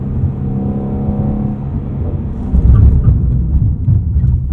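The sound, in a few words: Ford Mustang Shelby GT350 driving around town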